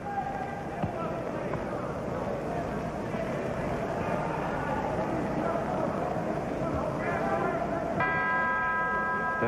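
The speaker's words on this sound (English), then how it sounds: "There's the bell that ends round number four" A boxing ring bell ending round four of a heavyweight bout, a bright ringing clang near the end over a dense roaring arena crowd, with an announcer talking throughout.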